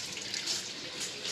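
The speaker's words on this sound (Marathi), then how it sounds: "पाणी भरायचं काम चाललंय. पाणी आलंय." Tap water pours steadily into a container for a household water-filling chore during heavy monsoon rain, a close, continuous hiss and splash that stops abruptly.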